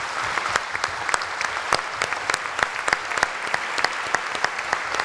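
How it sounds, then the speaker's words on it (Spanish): Applause in a provincial legislative session, a steady bed of clapping with sharp individual claps standing out, loud and close throughout with no speech. "Es un fuerte aplauso."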